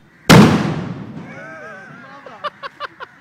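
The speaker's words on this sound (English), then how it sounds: "let him explode the fireworks" Fireworks set off at a public spot in Sri Lanka give one loud, close blast that crackles away, followed by whistling streaks and a quick series of smaller pops.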